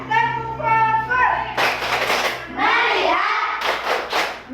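Children in a classroom chant together and clap in rhythm during a focus-clapping routine; sung voices alternate with sharp group bursts of clapping, loud and close.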